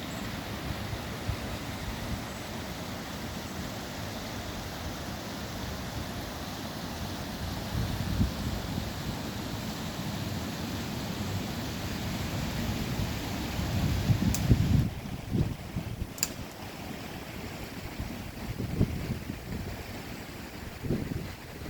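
Wind rushes steadily through winter woods on a mild day, with a continuous broad roar that swells in occasional gusts. No voices are heard.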